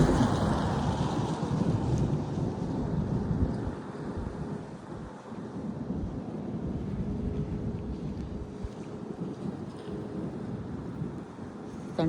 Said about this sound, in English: Thunder's still going.